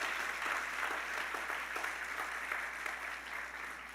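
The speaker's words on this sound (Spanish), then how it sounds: "Si vas a aplaudir, aplauda a Dios esta mañana" A church congregation applauds during a Sunday morning service, an even, moderately distant wash of clapping lasting a few seconds without letting up.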